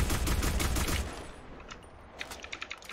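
Bursts of gunfire ring out in a Black Squad shootout, dense rapid shots for the first second, then scattered sharper single reports and short bursts trailing off at moderate distance.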